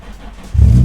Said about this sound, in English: Did you guys hear that hesitation when my car started?